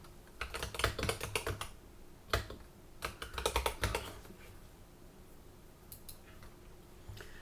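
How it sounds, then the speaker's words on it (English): Fingers tap out a few quick bursts on a computer keyboard, the close, crisp key clicks coming in uneven clusters separated by short pauses, with a faint tick or two afterward. "I'm going to type in, Azure Dev Tools for Teaching."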